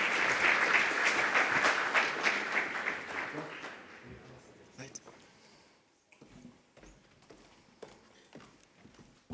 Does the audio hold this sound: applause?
yes